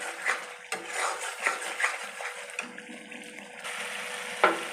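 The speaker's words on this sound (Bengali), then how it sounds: "ভালো করে মশলাটা কষে নেবো যতক্ষণ না তেল ছাড়ে" Masala being sautéed in oil for doi katla, a soft steady sizzle with intermittent clinks and scrapes of a spoon stirring in the pan, fairly quiet and close, with no talking.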